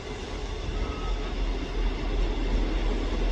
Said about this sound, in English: Arriving in now is the 11:59 ScotRail service from Dundee to Edinburgh Waverley.